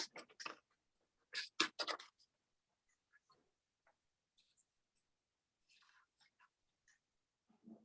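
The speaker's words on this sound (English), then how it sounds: "I'm going to just cut it out of my little template with my scissors." Scissors cut out a paper lettering template for a summer watermelon paint-night craft: a few close, crisp snips and paper rustles in short clusters, then faint sporadic clicks in a quiet room.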